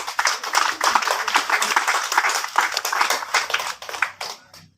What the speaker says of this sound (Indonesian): Beta minta ketong semua tepuk tangan.